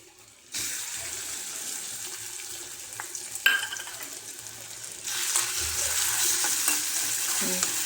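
Green chillies and peanuts sautéing in oil, starting after a short quiet moment, with a steady sizzle, a sharp clink of a utensil midway and a louder, fuller fry toward the end.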